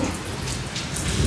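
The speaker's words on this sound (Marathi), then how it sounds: "किती भयानक पाऊस चालू आहे बघू शकता इकडं" Heavy monsoon rain pours steadily during a power cut, a dense continuous hiss of drops pounding surfaces close by, with no voices over it.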